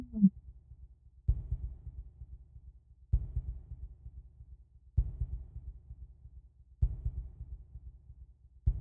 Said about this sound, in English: There's a heartbeat sound effect.